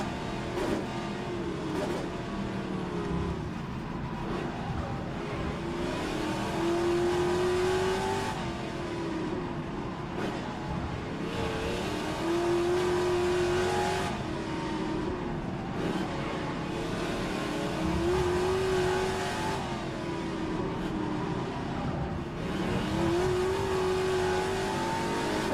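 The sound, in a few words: Trans-Am race car engine at Adelaide circuit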